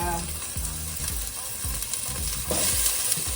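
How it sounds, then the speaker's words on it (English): Chopped onion and celery sizzling in a pot of hot oil for vegetable soup, a close, steady crackle with several scraping stirs throughout. "cooking down the onion and the celery to get it started and to start extracting flavor"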